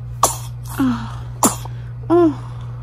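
Several sharp sneezes and small gasping breaths come in quick bursts close by, about four short sounds over a few seconds, over a steady low electrical hum in a room where a new mother is recovering after birth.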